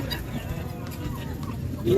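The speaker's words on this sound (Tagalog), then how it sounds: "Ito may mga malalaking manok eh." Large chickens at the Calumpit pet market in San Jose, Batangas cluck in a busy setting, with nearby voices and market bustle and a louder burst of sound near the end.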